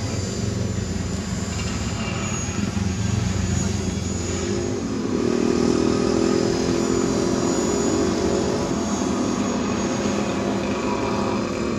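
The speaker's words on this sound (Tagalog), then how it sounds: "Nakakatakot yung tunog ng blades niya" Aircraft blades whirring on a ranch in strong wind, a loud, continuous droning roar with a slight swell midway and steady wind noise throughout, no clear talk.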